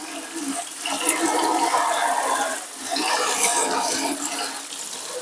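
Coriander roots washed under a running tap, a steady splashing stream of water that swells and dips over several seconds, close and fairly loud with no talk.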